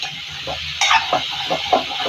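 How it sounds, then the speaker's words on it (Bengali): Eggs mixed with onion, green chili and salt fry in a wok. A soft hiss runs under several scraping stirs and clinks from a spatula, close up, with no talking. "মাখতে মাখতে ভাজা হয়ে যাবে"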